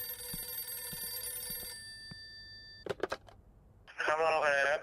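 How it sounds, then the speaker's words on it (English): A telephone rings in a video game with a steady electronic tone for about three seconds, followed by a few clicks of the handset being picked up and then a voice talking. "The phone rings and Tamara answers."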